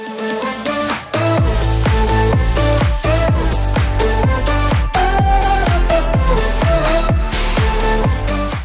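An electronic song plays loudly, with a punchy repeating beat and bright synth chords entering after a brief soft intro.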